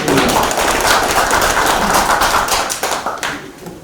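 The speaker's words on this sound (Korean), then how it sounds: "박수 부탁드립니다." Audience applause at a development forum in Hamyang fills the room with dense, steady clapping that holds loud for several seconds, then thins into scattered individual claps as it dies away.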